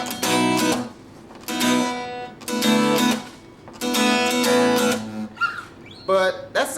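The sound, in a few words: acoustic guitar chords played with every root note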